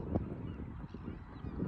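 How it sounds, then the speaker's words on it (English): Seagulls call by the sea, two short, faint squawks at the start and end over a low outdoor background. "Oh, seagulls."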